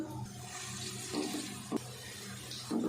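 Finely chopped onions sizzle in about half a cup of hot oil on a stovetop, a faint steady hiss with a few small crackling bursts.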